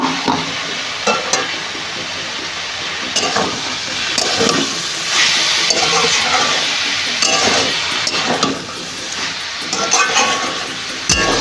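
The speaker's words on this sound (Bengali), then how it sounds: "আর এই যে একটু আদা, কাঁচা লঙ্কা, পেঁয়াজ আর অল্প সামান্য একটু রসুন দিয়ে এটা ভালো করে একটু কষিয়ে নেব" Ginger, green chilli, onion and garlic sauté in a pan, giving a sizzling fry broken by bursts of stirring and light utensil clinks against the metal, close and fairly loud.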